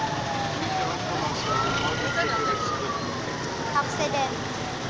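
An ambulance siren wails at a road accident between a tricycle and a motorcycle, its rising and falling tone carrying steadily over street noise and chatter from onlookers throughout.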